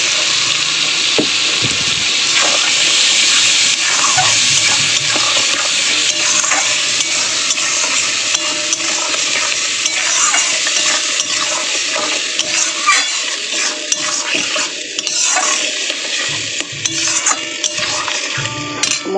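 Ginger, garlic, onion and dried chilli paste fried and stirred in hot oil for a boal fish curry masala: a loud, steady sizzle with continuous spatula scraping and occasional pan knocks, close and without talk.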